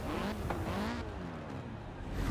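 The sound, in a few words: Audi TT car driving in the video game Forza Horizon 4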